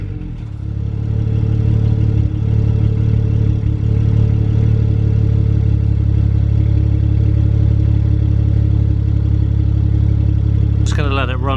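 A BMW N54 engine, freshly fitted with new VANOS solenoids, runs at a steady idle with a deep, even drone and light clatter throughout, close and loud, with a brief higher sound near the end.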